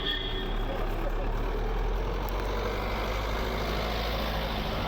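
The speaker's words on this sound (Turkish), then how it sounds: "Bak dolmuş geliyor, otobüs geliyor." A minibus and a city bus drive past on a street with a low, steady engine rumble that stays close and fairly loud the whole time. There is no talk over it.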